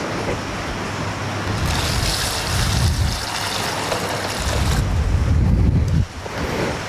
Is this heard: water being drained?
yes